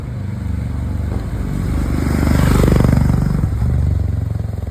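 A Royal Enfield Himalayan 411 single-cylinder motorcycle engine thumps close by, its steady beat swelling louder as the revs climb, then easing back.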